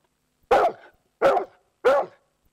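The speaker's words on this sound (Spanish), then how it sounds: "¿Y qué hace el perro? ¡Guau, guau, guau, guau!" A dog barks three times, close and loud, with short evenly spaced yaps and silence between them.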